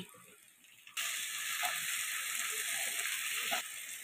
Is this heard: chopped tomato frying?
yes